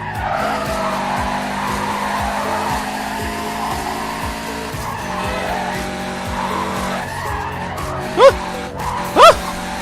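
A race car in the video game Need For Speed Carbon drones steadily over background game audio, then two short, loud tire screeches cut through near the end.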